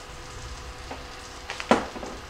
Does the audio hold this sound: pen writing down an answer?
no